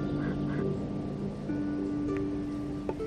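Ducks quack intermittently in the video game Risen 3, short nasal calls spaced out over steady outdoor ambience.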